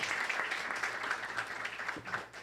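Applause from the audience at a Brazilian regional economics council ceremony, steady dense clapping filling the room at moderate level for the whole stretch, easing slightly near the end, with no voices over it.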